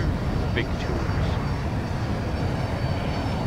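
A jet aircraft flies in the video game Battlefield 2042, its steady, loud, broadband roar filling the scene without a break and with no voices over it.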